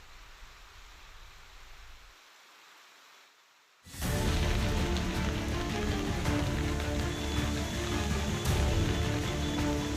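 Heavy rain falls during flooding in Bihar, starting as a faint hush and then, after a brief near-silent gap, swelling into a loud, dense, continuous roar of downpour.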